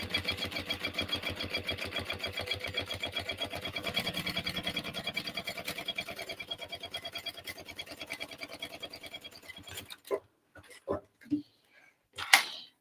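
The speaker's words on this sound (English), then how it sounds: "So I'm just going to baste this in place." A domestic sewing machine stitches long basting lines on a fabric dolly bag, a fast steady needle rhythm running close and continuous for about ten seconds, then stopping, followed by a few separate handling clicks and knocks.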